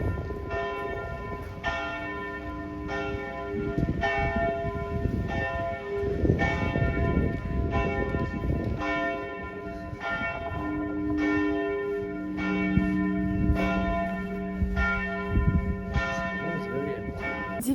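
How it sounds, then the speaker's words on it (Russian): Church bells in Helsingør ring out at eleven o'clock, a sequence of loud, resonant strikes with long overlapping hum, layered tones sounding repeatedly at a steady pace over faint street ambience. "Пунктуально в 11 в Хельсингоре начали звонить колокола"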